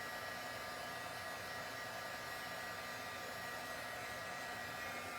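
A heat embossing gun blows steadily while heating embossing powder on a stamped card, a continuous whirring hiss of fan and heater, fairly faint and unbroken, with no voices.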